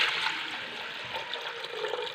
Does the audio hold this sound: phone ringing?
no